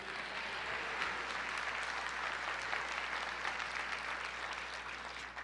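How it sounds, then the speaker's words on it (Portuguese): A church congregation applauds together in a steady, dense wash of clapping that fills the room and holds level for the whole stretch, with no voices rising above it. "Aplauda ao Senhor."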